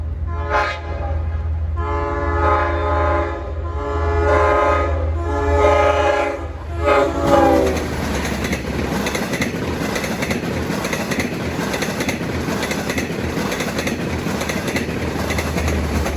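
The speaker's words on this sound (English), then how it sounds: "This should be for train 605, dual mode train from Port Jefferson to New York City," A dual mode passenger train, number 605 bound from Port Jefferson to New York Penn Station, passes near Nassau Tower in Mineola, sounding a loud horn for several seconds before a heavy, rumbling roar of cars rolling by.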